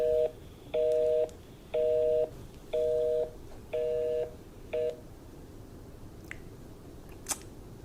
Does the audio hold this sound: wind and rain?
no